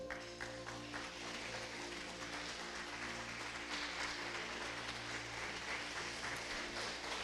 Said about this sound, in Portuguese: Pode tomar assento, dando um aplauso para o Senhor.